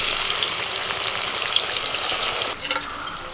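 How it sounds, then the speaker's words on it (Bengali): Onions fry in hot white oil in a kadai for birista, a busy close sizzle and crackle with stirring that shifts and lightens near the end. "এবার পেঁয়াজ বেরেস্তাটা করে নেব"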